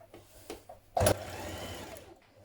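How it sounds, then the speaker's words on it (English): Domestic sewing machine stitching a short seam a couple of millimetres in, near the pocket of a child's dress, a brief close whirring burst with faint clicks before it and a fading hum after. "you're going to stitch a couple of millimetres in this seam that you've just sewn onto towards the pocket"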